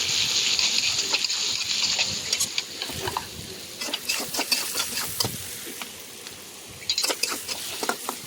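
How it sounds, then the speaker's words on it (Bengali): Onion and garlic stirred and fried in hot oil, with a steady close sizzle broken by repeated scraping strokes of a spoon through the pan. "পেঁয়াজ আর রসুনটা খুব সুন্দর করে তেলে লাড়াচাড়া দিয়ে একটু ভেজে নেব।"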